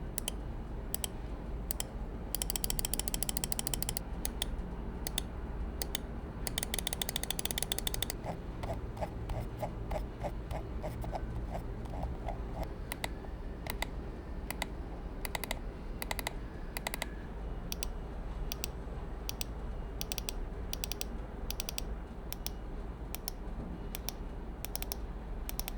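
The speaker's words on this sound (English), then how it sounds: "Now here's a quick sound test to give you a better idea of how this mouse sounds." ASUS ROG Harpe II Ace gaming mouse clicks crisply and close up, first in rapid spam-clicking bursts, then in steady repeated single clicks for about twenty-five seconds, alone and quiet.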